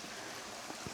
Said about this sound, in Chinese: 听到有很响的流水的声音